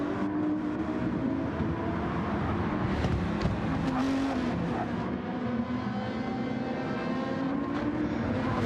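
A Dodge Viper race car roars around a circuit in a racing video game, a throaty, continuous engine drone with shifting pitch and other cars mixed in, moderately loud and steady.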